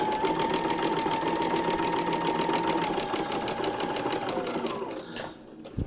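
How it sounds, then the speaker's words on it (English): A sewing machine stitches a paper-pieced quilt block in a fast, even run of needle strokes with a steady motor whine, then slows and stops near the end. "So let's put our foot down, start to stitch, do a little back stitch"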